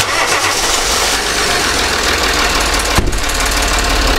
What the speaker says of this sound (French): Maintenant, je démarre.